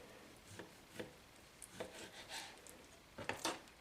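A knife slices through raw deer meat across the grain on a board for Chamorro kelaguen, giving several soft, short cutting and rubbing strokes, close and quiet, with no talking.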